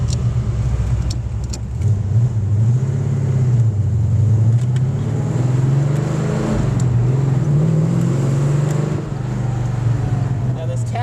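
A 1964 Ford Falcon convertible's engine hums and revs steadily as the car drives along, its pitch rising and falling with acceleration, recorded close up.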